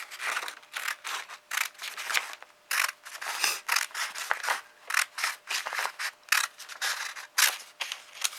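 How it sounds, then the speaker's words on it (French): Scissors snip steadily along paper to cut a 2 cm strip for a small paper rosette, a close, crisp run of repeated rhythmic cuts with no talking. "je découpe ma bande de 2 cm"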